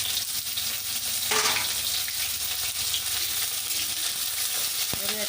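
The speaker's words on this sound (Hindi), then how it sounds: "ये अच्छे से फ्राई हो जाए।" Garlic, ginger, onion and green chili frying in a pan for a pumpkin curry, a dense continuous sizzle with occasional stirring clatter, close and loud, no voices.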